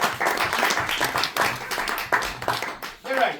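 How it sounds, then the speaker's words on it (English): Live audience applause at a comedy magic show at the Edinburgh Fringe, a dense wash of clapping lasting several seconds with someone talking over it. "You're right, that didn't deserve applause."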